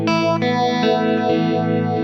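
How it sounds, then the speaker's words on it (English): Electric guitar played clean through a fast phaser on a Quad Cortex, a steady sustained tone with a rapid sweeping whoosh rolling through it, loud and close with no voices. "You see the speed on the phaser is a little high."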